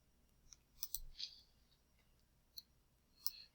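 Scissors snip through paper in a few sharp, close, quiet clicks spread over a few seconds, with a near-silent room around them.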